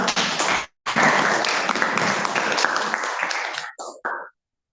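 Classroom applause, a loud burst of clapping that breaks briefly, then resumes as a dense steady patter and tapers into a few scattered final claps.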